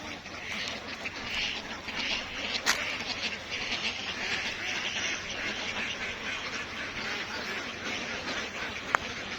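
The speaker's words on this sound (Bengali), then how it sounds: "এই যে দেখছেন এই যে এখানে ভাই হাঁসগুলো রাখে।" Ducks quack continuously in a housing shed at a duck farm, a busy close chorus with a low hum beneath.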